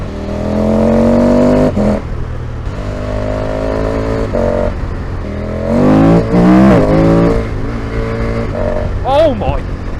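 KTM 1290 Super Duke motorcycle fitted with a DNA filter, revving loudly and close by, its engine note rising and falling through several blips with rough, popping harmonics from the airbox.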